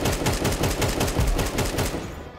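Rapid bursts of automatic gunfire from Counter-Strike 2 on the Dust II map, loud and close, firing continuously for about two seconds before cutting off.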